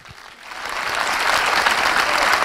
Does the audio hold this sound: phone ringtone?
no